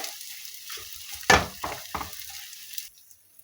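Edible gum (gund) frying and puffing in hot ghee on a low gas flame, a soft sizzle broken by a few stirring scrapes and one louder clatter, close by and without speech.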